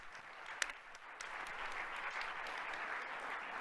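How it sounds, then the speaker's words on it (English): Steady applause from a conference audience at an opening plenary session, a moderately distant crowd clapping continuously with a sharp single clap near the start. "get another round of applause"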